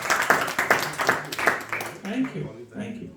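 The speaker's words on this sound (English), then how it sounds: "please give a round of applause to Neha Mage." A small group claps in a brief, uneven burst of hand claps that fades after about two seconds, with people talking alongside.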